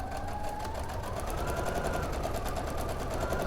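A sewing machine runs steadily, stitching a straight diagonal line through several layers of quilt fabric, with a dense, even, rapid mechanical whir at close range and no pauses.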